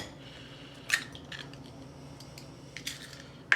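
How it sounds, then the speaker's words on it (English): An egg cracks against the rim of a bowl, giving a couple of sharp, close taps with a small wet crunch, spaced apart in a quiet kitchen. "I'm going to crack an egg in here."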